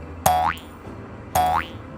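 Two springy cartoon boing effects spaced about a second apart, each a bright twang that bends upward, marking a rabbit hopping in a children's boat-trip storybook reading, with nothing else heard.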